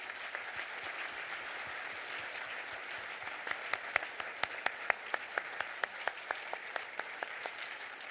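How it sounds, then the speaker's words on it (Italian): Final applause at an award ceremony for a painting prize in Mestre, a moderate round of clapping from the audience, with individual sharp claps standing out more clearly in the second half. "un bel applauso finale"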